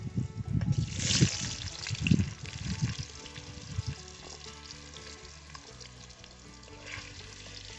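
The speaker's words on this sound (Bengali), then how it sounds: "আলুগুলোকে একটু ভাজা করে নেব।" Diced potatoes go into hot oil with panch phoron, the five-spice tempering, and sizzle loudly with stirring bursts that settle into a steady, quieter fry close to the microphone.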